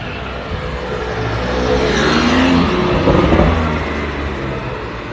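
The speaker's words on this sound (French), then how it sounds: "Porsche 911 Carrera." A Porsche 911 Carrera drives past on a street in Monaco, its engine noise swelling as it approaches and fading as it moves away, amid steady traffic noise.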